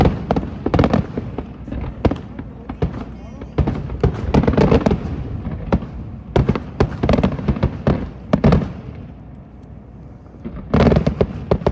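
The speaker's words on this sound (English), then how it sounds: "That's what the fireworks are for." Fireworks crackle and boom at a NASCAR Xfinity race in Fontana, with dense irregular bursts of sharp pops and bangs, some loud and near, continuing for several seconds with quieter pauses between volleys.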